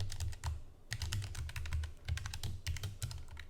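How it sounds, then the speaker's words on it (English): Quick, even keystrokes on a computer keyboard as a password is typed, a run of close clicks with one brief pause, no voices. "You're gonna type in the password"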